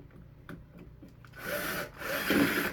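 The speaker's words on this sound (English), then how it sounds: "grab my drill with the proper bit, and we're just going to set them in place." A power drill drives pocket screws into wood. Faint taps and handling come first, then two loud, close bursts of whirring and grinding as the screws bite in, with no one talking.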